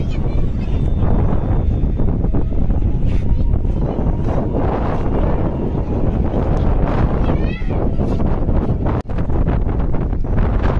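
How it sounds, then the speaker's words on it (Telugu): Strong gusting sea wind at Somnath Beach roars against the microphone throughout, loud and constant, with faint voices barely audible underneath. "వీడియో మధ్యలో బ్యాక్గ్రౌండ్లో మీరు వినొచ్చు సౌండ్స్ సముద్రం నుంచి వచ్చే గాలి సౌండ్లు అవి"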